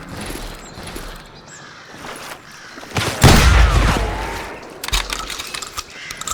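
Gunfire in the western video game Call of Juarez Gunslinger, heard as scattered shots with a louder burst of blasts midway and a few sharper cracks near the end.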